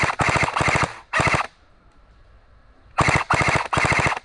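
Airsoft gun fired in bursts in a wooded outdoor game, two clusters of rapid, loud automatic shots separated by a quiet pause, close to the listener.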